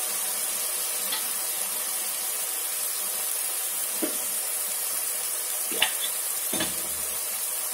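Chopped tomato fries in a pan for green peas pulav, giving an even, steady hiss throughout with a few faint scrapes and taps of stirring, and no talk.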